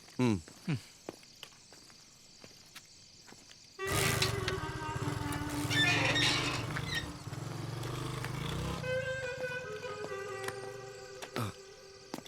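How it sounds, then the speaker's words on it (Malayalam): A motorcycle engine starts and idles loudly nearby for about five seconds, then settles into a steady lower running hum, with scattered footsteps and clicks before and after. "ബൈക്ക് ഞാനൊന്ന് എടുക്കുവാണേ."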